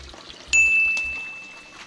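Water pouring from a spout at the Bica da Aguinha fountain in Vila Nova de Milfontes, a sudden splashing stream that starts after a quiet moment and continues steadily nearby.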